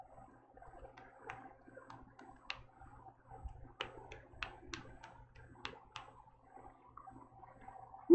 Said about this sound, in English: What I'm doing is flicking the brush, if you can't tell.